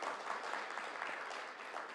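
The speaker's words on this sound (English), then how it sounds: "Let's rehearse clapping a little bit first." Audience applause at the YY Glocal Teen Hero India 2021 event, a dense steady wash of many hands clapping together throughout, fairly even in level with no break.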